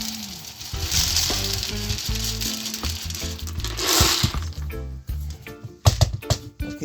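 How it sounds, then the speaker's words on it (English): Dry red peas are poured into a pot for Jamaican rice and peas, making a dense, continuous rattling patter of hard little beans. It thins into scattered clicks and a few louder knocks near the end. "I'm adding my peas, my dry peas to the pot."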